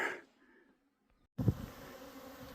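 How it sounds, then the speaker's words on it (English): Bees buzzing around a big hive in a dead tree at the edge of a mountain trail, a faint hum that swells into a louder, steady drone up close. "Got a big old beehive right here on the edge of the trail in this dead tree."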